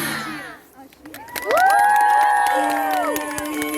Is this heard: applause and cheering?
yes